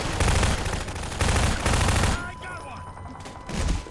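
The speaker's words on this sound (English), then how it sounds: "Where's the shooting coming from?" Rapid bursts of gunfire from the Half-Life 2 video game, loud and dense in two close volleys, then a quieter gap with faint tones before another short burst.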